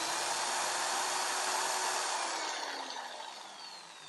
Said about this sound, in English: I'll turn on the AC inverter and I'll plug in this drill.